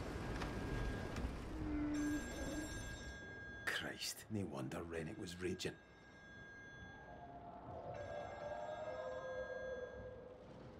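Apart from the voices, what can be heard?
telephone ringing in video game Still Wakes The Deep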